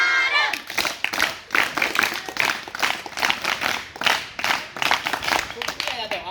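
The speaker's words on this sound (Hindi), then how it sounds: "यदि समझ में आया तो एक साथ जोरदार ताली बजाएंगे" Classroom students clap together in a burst of dense, rapid, loud applause, with overlapping voices shouting through it.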